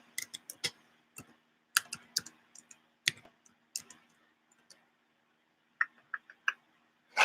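Irregular bursts of computer keyboard typing mixed with sharp mouse clicks, close and fairly loud, clustered in quick runs with short pauses between them and no talking.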